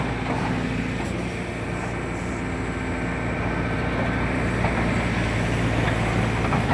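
A loaded tipper truck with a worn sprocket grinds along a badly damaged mountain road, a loud, continuous close engine rumble and rattle.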